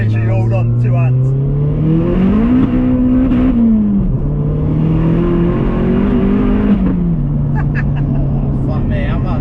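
A modified 552 bhp Vauxhall Astra VXR accelerates hard from inside the cabin, engine note climbing then dropping at the shift from second into third before rising again, loud and continuous under occasional voices.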